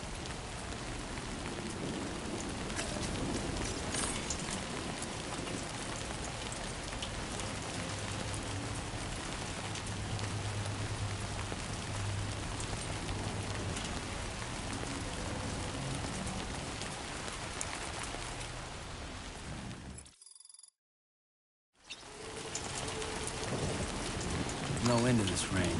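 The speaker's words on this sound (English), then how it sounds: "No end to this rain." Steady rain pours down in a dense, hissing wash in the video game Death Stranding 2, with low rumbles underneath; it cuts out briefly near the end, then resumes.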